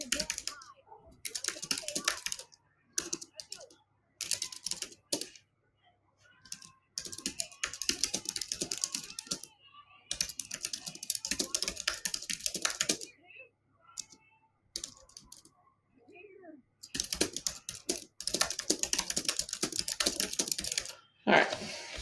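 Typing a note on a computer keyboard produces dense bursts of quick, close key clicks separated by brief silent pauses, with some faint speech mixed in.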